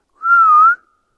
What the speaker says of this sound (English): That was a whistle back.